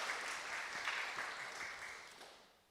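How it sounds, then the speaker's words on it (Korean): A church congregation at a worship service with a singer-songwriter applauds after a song, a soft, distant wash of clapping that slowly fades away. "이런 노래도 박수가 나오는 거 보니까"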